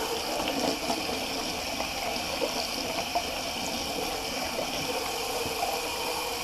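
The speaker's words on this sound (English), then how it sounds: "I'll just do a quick rinse on the razor" A razor rinsed under a running tap during a wet shave, a steady faint splash and stream of water with no talking.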